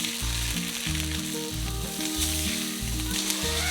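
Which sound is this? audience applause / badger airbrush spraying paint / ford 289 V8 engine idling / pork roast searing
pork roast searing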